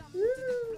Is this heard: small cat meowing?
yes